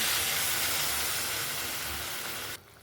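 A loud, continuous hiss and sizzle as a little water is added to sautéed masala in a hot pan for eggplant kuzhambu, steady for a couple of seconds before dropping abruptly to a quieter simmer.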